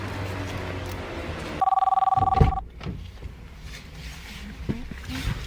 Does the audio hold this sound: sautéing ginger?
no